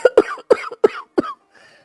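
An old man coughs five times in quick, harsh bursts, close by, then a faint breathy trailing sound.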